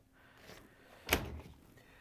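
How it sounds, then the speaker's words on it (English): A Whirlpool, KitchenAid or Maytag dishwasher is slid out of its kitchen cabinet, giving a soft scrape and then one sharp, close thunk as the frame shifts, followed by a brief low rumble. "carefully pull the dishwasher out a little bit until we can grab the frame, and we can pull it out the rest of the way"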